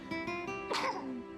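A single short sneeze bursts out near the middle, close and moderately loud, preceded by brief vocal sounds.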